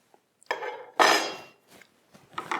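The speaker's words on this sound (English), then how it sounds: "Now you take off this plate." A metal plate is lifted off a Hottop KN-8828B-2K coffee roaster during cleaning, giving a few close, bright metallic clanks and scrapes, one louder rattle, then lighter clinks.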